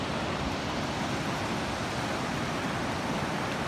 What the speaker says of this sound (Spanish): del embalse de Algar, que está desaguando agua, como se puede comprobar en el vídeo